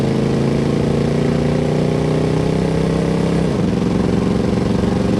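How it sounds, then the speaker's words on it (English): A 1977 Chevrolet Blazer Cheyenne Chalet with a 350 V8 and automatic transmission pulls hard under throttle, a loud steady engine drone that rises in pitch, then drops sharply as the transmission upshifts and climbs again. "we'll get in the throttle to test it out a little bit"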